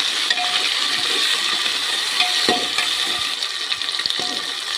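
Chopped tomatoes tipped into a hot pan for egg biryani, giving a steady watery sizzle and crackle with scattered light clinks, close and without voices.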